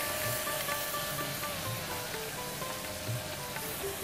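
Spice paste with a spoonful of yogurt frying in a pan for potol dom, giving a steady, even sizzle that runs unbroken throughout, with no voices over it.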